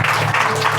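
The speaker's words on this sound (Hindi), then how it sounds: "आइए परमेश्वर के जोरदार ताली बजाएंगे" A church congregation clapping loudly together in praise of God, a dense, steady wash of applause filling the whole short moment.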